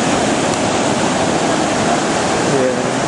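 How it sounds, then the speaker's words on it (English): Rough ocean surf surging onto a beach along the Great Ocean Road, a dense continuous wash of crashing water and wind noise filling the whole stretch, loud and close, with a faint voice underneath. "睇下呢个波涛汹涌啊"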